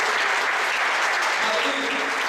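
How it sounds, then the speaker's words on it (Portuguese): A church congregation at a Methodist service claps together in a loud, sustained burst of applause filling the room. "Você pode aplaudir o Senhor Jesus?"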